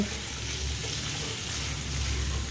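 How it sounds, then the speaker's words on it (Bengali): Potatoes fry in a pan of oil seasoned with nigella seeds, salt and turmeric, giving a steady, close, low sizzle that holds evenly throughout with no talking. "এবারে সব কিছু মিশিয়ে এই আলুগুলো একটু ভালো করে ভেজে নিতে হবে"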